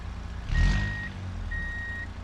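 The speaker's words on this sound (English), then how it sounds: "As you can see, I'm going reverse and there is a beeping noise." Reverse warning beeps from an Arima Hestia minivan in BeamNG.drive, two steady high tones each lasting about half a second with a pause between, heard outside the vehicle over a low engine rumble.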